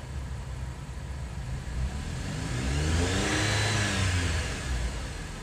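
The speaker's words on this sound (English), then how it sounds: "if you hit the accelerator pedal, you can see they are both working together" A hybrid car's engine revs up as the accelerator pedal is pressed, a steady mid-pitched drone that climbs and swells in the middle before easing back, heard close with no talking.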